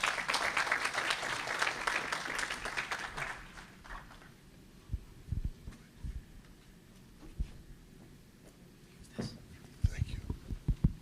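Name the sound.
applause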